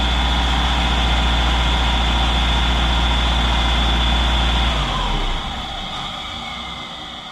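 A built sleeper Subaru engine, suspected of an exhaust leak at the back bolt of a 3-bolt flange, runs loud and steady with a heavy low rumble, then drops back toward idle near the end.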